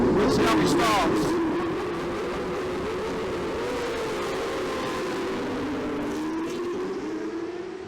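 600cc road racing motorcycles at a spring road race meeting, engines roaring loudly together near the start, with rising and falling revs and a strong engine drone that eases slightly after the first two seconds; crowd chatter underneath.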